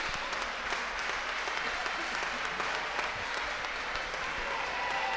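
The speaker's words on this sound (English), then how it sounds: "The fans giving a round of applause." A crowd of wrestling fans at a live show applauds continuously, dense clapping that holds steady throughout at a moderate, fairly close level.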